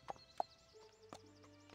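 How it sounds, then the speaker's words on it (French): Horse hooves clip-clop in a video game, a few faint, sparse hoofbeats under quiet game sounds and soft tones, distant rather than close. "c'est nous qui faisons avancer le cheval"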